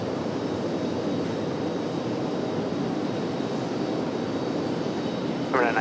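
A jet airliner arriving at RDU from Phoenix Sky Harbor gives a steady, broad engine roar that holds evenly throughout, with a brief voice at the very end.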